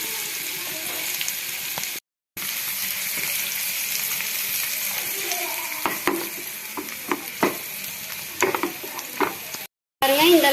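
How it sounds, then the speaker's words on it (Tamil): Masala mix frying and being stirred in a kadai for veg paneer masala, a steady close sizzle broken by scraping stirs and two brief silent gaps. "அதனால தான் நம்ம மசாலா மிக்ஸ் பண்ணி ஃப்ரை பண்ணிக்கிறோம்"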